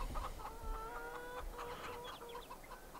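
Chickens cluck repeatedly around a new chicken house in the farming game Farming Simulator 22, several overlapping clucks and short calls at moderate volume over a low background hum.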